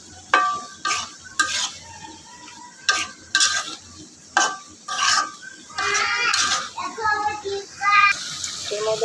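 Eggplant sautéed in spice masala with potato and dried fish, stirred in a pan with a series of sharp scraping strokes and bursts of wet sizzle, close and uneven, with no talking.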